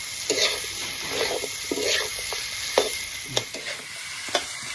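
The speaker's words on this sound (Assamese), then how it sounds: "মাংসখিনি একদম পুৰা ধুনীয়া কৰি ভাজা গৈছে" Meat fries in a pan, a constant close sizzle broken by sharp scraping and clinking strokes as a utensil stirs it at irregular intervals, with no talking.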